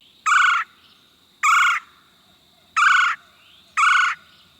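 Four loud, harsh calls of a red-headed woodpecker at steady intervals, close and clear against a quiet background.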